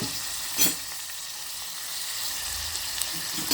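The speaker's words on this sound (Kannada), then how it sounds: "ಆಮೇಲೆ ಅದಕ್ಕೆ ಇನ್ನೊಂದು ಬೆಳ್ಳುಳ್ಳಿ ಒಣಮೆಣಸಿನ್ಕಾಯಿ ಒಗ್ಗರಣೆ ಹಾಕೋಂಥದ್ದು" Garlic and dried red chillies sizzle in hot oil as a tempering, a steady close frying hiss with a brief louder burst near the start, with no talking.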